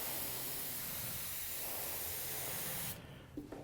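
A light spray of paint hisses steadily over pinstripe tape for about three seconds, close and even, then cuts off abruptly into near silence.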